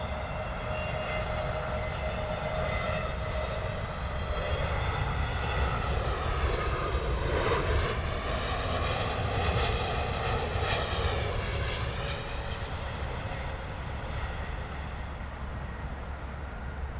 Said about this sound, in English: We got KM Malta Airlines coming in from Malta,